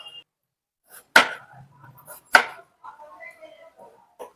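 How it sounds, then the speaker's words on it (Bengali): Peeled potatoes are cut into large chunks with a knife, giving two sharp, separate chops against a board with small handling clicks and quiet gaps between them. "এবার আলুগুলোকে আমি একটু বড় বড় টুকরো করে নেব"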